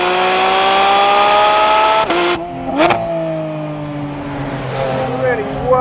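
A Porsche GT4 RS engine, revving to 9,000 rpm, screams steadily, drops sharply twice between gear changes, then climbs again, loud and close, on the Tail of the Dragon mountain road.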